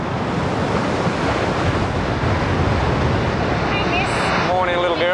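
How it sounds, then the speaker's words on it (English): Steady roar of wind and crashing waves from a trans-Tasman storm at sea, heard from the deck of a ship, loud and unbroken, with a brief voice surfacing near the end. "the ship taking Karaka to New Zealand has sailed into a trans-Tasman storm"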